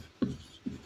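Pen or marker writing numbers, two short scratchy strokes about half a second apart, close and moderately quiet against a faint background.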